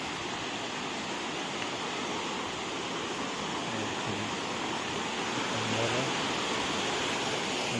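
Devkund waterfall roars as a steady, dense rush of falling water, close and continuous throughout.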